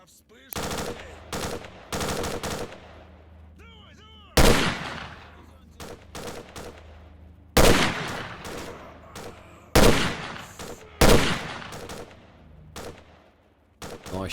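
Gunfire in S.T.A.L.K.E.R.: Shadow of Chernobyl: sharp, loud bursts of automatic fire and single shots come in clusters with short pauses between them, close and punchy, with faint in-game voices in the gaps.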